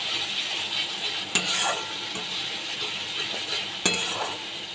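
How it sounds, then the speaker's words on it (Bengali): Fish curry masala sizzles steadily in hot oil as it is stirred, with two sharp utensil scrapes against the pan standing out above the continuous frying hiss. "তেল দিয়ে ভালো করে আবার কষিয়ে নিচ্ছি।"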